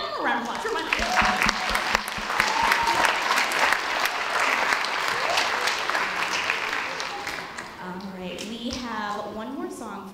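An audience at an elementary school spring concert breaks into loud, sustained applause with scattered cheers, and a voice speaks over the clapping as it tapers toward the end.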